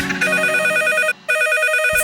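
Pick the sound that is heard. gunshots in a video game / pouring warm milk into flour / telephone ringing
telephone ringing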